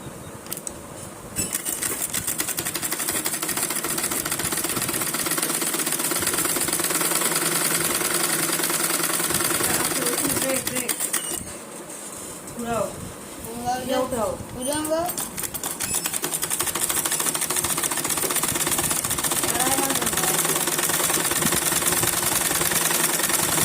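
Sewing machine stitching a pair of pants, a fast rattling mechanical run that continues for long stretches, briefly pausing midway while voices talk over it.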